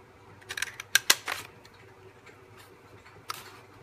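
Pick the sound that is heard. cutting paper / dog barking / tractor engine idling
cutting paper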